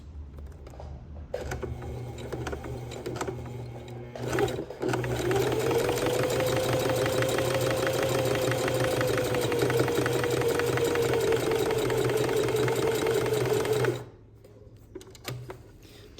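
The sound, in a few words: sewing machine topstitching a kids' pencil case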